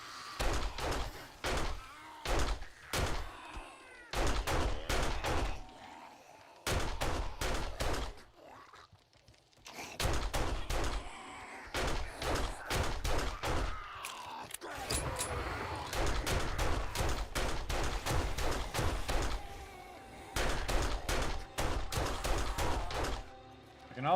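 Rapid bursts of gunfire fired at zombies in the survival game 7 Days to Die, loud sharp shots in fast volleys with brief pauses, continuing for most of the stretch.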